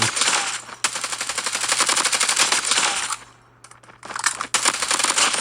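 AK rifle fire in Call of Duty Mobile, loud rapid automatic bursts at close range, a long burst, a short pause near three and a half seconds, then more rapid fire.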